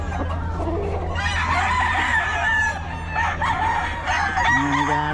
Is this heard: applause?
no